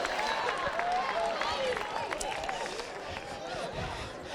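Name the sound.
audience cheering and applauding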